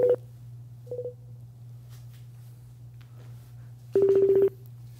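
DTMF keypad tones from a telephone dialing out to a call-in viewer on a Brazilian talk show: one short beep at the start, another near one second, then a rapid burst of several tones late in the clip over a steady low hum.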